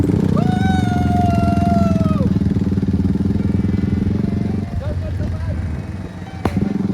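Motorcycle riding through Bardiya jungle in Nepal on a jungle safari, its engine droning loud and steady throughout, with a person talking over it and a sharp knock near the end.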